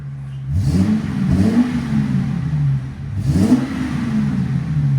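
A Ford Excursion with a 6.8L V10 engine and a 22-inch Magnaflow exhaust revs in two loud, deep throttle blips, each rising and falling back to a rumbling idle, close by and with no talking.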